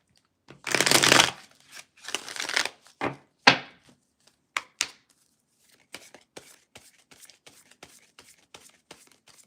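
Tarot cards are shuffled by hand in a run of crisp riffling bursts, loud and close at first, then a string of lighter, quicker flicks and taps with brief pauses between them.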